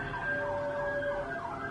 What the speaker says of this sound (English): there's a lot of sirens there